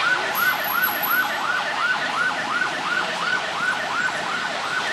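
An ambulance siren in Thailand wails in a rapid, repeating rising-and-falling pattern, loud and close, with traffic noise underneath.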